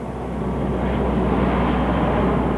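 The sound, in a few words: planes at Moffett Field airstrip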